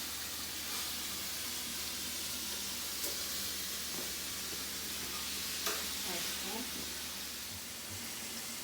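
Shrimp for jambalaya fry in hot oil with a steady, dense sizzling hiss, fairly close, broken by a few faint utensil taps and stirring sounds.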